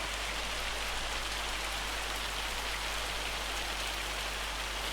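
Dense hail from a video game weather mod pelts down in a steady, even hiss of countless tiny impacts, constant and close with no voices.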